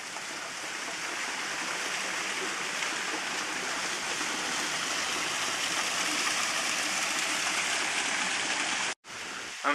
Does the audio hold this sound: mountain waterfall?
yes